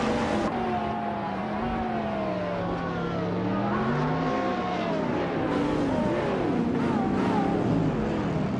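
Race cars roar around the Daytona Road Course in a racing video game, including a classic 1999 Lamborghini Diablo GT, with engines droning and shifting pitch steadily throughout.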